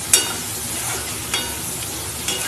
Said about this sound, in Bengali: আবার আমি ভালো করে কষিয়ে নিচ্ছি